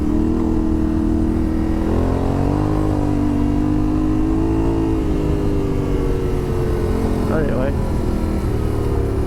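Yamaha Tenere 700 motorcycle engine droning steadily while riding on gravel, with small rises and dips in revs, and a rider talking over the engine for most of the stretch.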